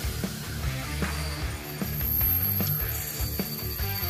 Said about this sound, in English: Here I'm cutting off the excess pin.